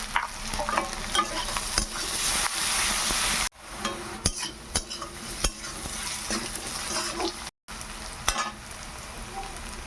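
Potatoes with salt frying in a pan sound as a steady, close hiss and crackle, broken by stirring scrapes and taps and two brief dropouts.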